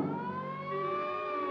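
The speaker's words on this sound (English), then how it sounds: "It's a siren. Probably an ambulance or a police car." A siren from an ambulance or police car wails in a steady, sustained tone, moderately loud and heard alone, in an old 1940 film-noir soundtrack.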